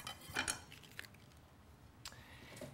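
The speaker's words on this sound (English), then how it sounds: "So I'm going to cut the stem off." A few quiet knife cuts and taps against a cutting board as Swiss chard stems are cut off, with soft crunches spaced apart and no talking.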